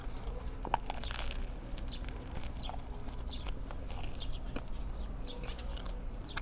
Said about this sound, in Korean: 이 바게트도 겉에는 바삭한데 속 쫀득하면서 폭신폭신하고